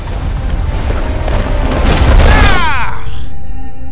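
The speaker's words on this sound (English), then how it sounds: "Tornado!" A Final Fantasy XVI tornado attack: a loud, sustained roaring rush swells into a whooshing burst with rising and falling swirling tones, then cuts to quiet electronic hum.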